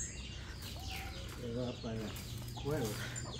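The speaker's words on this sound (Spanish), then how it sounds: "Y ahí está doña gallina" A hen clucks softly with her chicks in a rural yard, a few short low clucks and faint peeps coming in brief bursts over a steady outdoor background hum.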